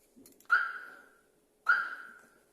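A van alarm sounds two distinct chirps about a second apart as it is armed with the key fob, each a clear bright beep fading out, with quiet between.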